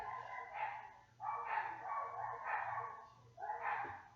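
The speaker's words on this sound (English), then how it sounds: "I'm sorry if you hear my dogs because that's annoying, really." Dogs bark in a muffled, somewhat distant way, several drawn-out barks in a row over a low steady hum.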